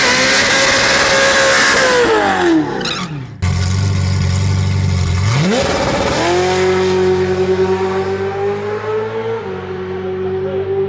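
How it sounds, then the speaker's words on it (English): A loud street car with a stock LT4 supercharged engine revs hard, drops, then climbs again through the gears as it accelerates down a quarter-mile strip, the roar gradually fading into the distance. "It sounds like a race car."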